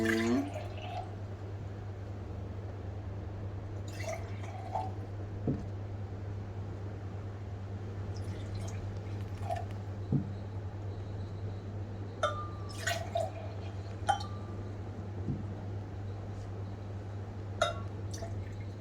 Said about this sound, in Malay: cikgu akan tuangkan air ini ke dalam setiap gelas yang cikgu telah labelkan